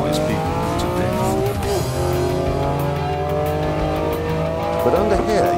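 BMW M3 driven hard, its engine roaring loudly with rising and falling revs and tire squeal as it corners, close and continuous throughout.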